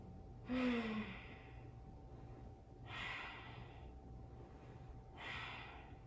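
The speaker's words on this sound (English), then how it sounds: "Breathing here." Three slow, breathy exhalations spaced about two seconds apart, close and soft, from someone holding a power yoga pose, with faint low room noise underneath.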